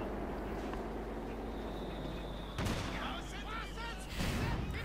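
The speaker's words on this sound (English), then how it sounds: "Further sniper fire." Sniper shots ring out in a Company of Heroes 2 real-time strategy battle, with a few sharp reports standing out over a dense, continuous wash of game noise and distant combat rumble.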